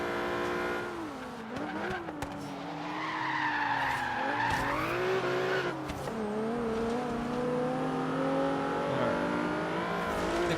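A Japanese car races in the Forza video game, its engine revving high and climbing through gears while tires squeal and skid loudly through corners, with no talk over it.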